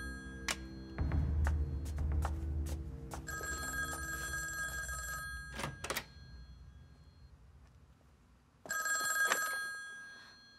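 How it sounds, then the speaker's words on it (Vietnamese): An old telephone bell rings in a Republic-era Chinese romance drama, sounding in clear repeated bursts with short pauses between them and a final ring near the end, against a quiet room with no talk. "Ai cũng ngủ như chết, không ai nghe điện thoại sao?"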